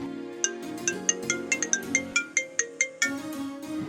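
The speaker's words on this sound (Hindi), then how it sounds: "तभी उसका फ़ोन बजता है।" A mobile phone ringtone plays a bright, repeating melodic pattern of chiming notes in steady rhythm over a soft backing tone, clear and close with no voices.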